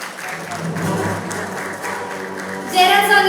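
Applause from an audience at an award ceremony honoring a music director, a steady wash of clapping mixed with some crowd murmur that swells louder near the end.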